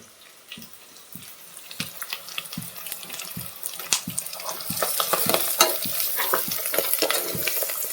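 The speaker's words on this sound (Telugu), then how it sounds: "పచ్చివాసన పోయేంత వరకు ఫ్రై చేసుకోవాలి." Onions, ginger-garlic paste and turmeric frying in a pan for boti (tripe) curry, with a steady sizzle and repeated scraping stir strokes that grow busier and louder toward the end, with no talking.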